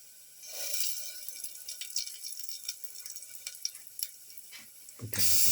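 Shrimp and potatoes with pepper saute in a pan, with a steady, faint sizzle and light scraping stirs, then a sudden louder rush of frying noise near the end.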